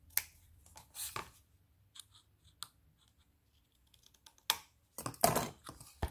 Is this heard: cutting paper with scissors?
yes